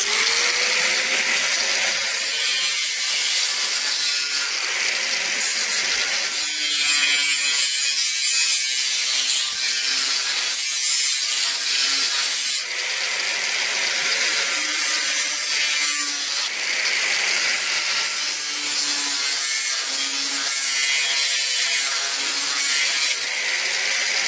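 Worn garden hoe and axe blades sharpened with a rongola, giving steady, continuous loud rasping strokes that grind on without pause for the whole stretch, with no talking.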